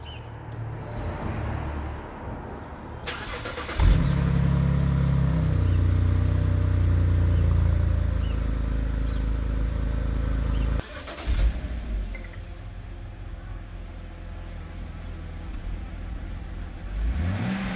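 A cold BMW 328i fitted with a sport exhaust cranks and fires up, flaring to a loud revving burst and then settling into a steady deep idle. The engine shuts off abruptly, followed by a clunk and quieter ambient noise.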